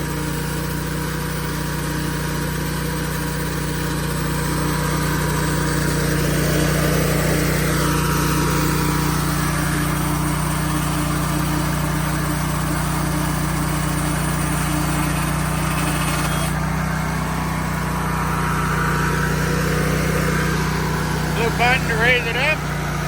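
Engine of an Oscar 336 portable sawmill runs steadily through a log cut, a constant drone with a shifting pitch as the load changes, with someone talking over it.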